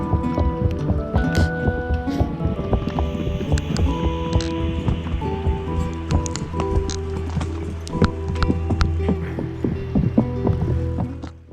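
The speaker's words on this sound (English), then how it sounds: "We were riding on gravel that would fall down the cliff under our horse's feet" Several horses walk along a steep gravel mountain trail on an elk hunt in Utah, hooves clip-clopping and crunching loose stones in an uneven rhythm, close by, with faint rustling and no talk.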